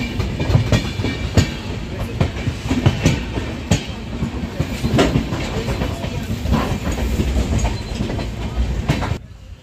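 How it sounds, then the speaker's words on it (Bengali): Onboard the Sealdah–New Jalpaiguri 13175 Silchar Kanchanjangha Express running near Azimganj Junction, a loud steady rumble with repeated clickety-clack wheel beats over rail joints, ending abruptly. "আজিমগঞ্জ জংশন ক্রস করলো ট্রেন"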